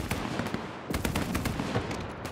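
Rapid bursts of machine gun fire in a snowy video game battle, dense and sustained with sharp repeated cracks throughout, some shots nearer and louder than others.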